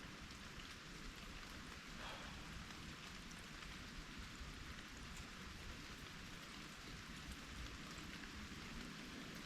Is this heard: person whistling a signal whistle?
no